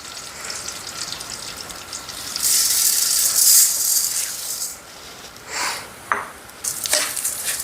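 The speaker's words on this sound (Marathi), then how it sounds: "दोन तीन चमचे तूप घातले तर आता हे तांदूळ पण खमंग असे भाजून घेऊया" Rice grains roasting in ghee in a pan, stirred over low heat: a steady close sizzle and hiss with scraping stirs, swelling louder in bursts as the grains are turned, no voices.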